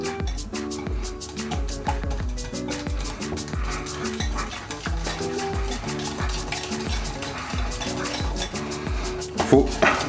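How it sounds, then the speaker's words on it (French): Chocolate truffle mixture being stirred in a bowl, producing a steady rhythm of scraping strokes and light clinks against the sides, close and alone with no talking. "Faut bien mélanger, faut pas qu'il reste de grumeaux"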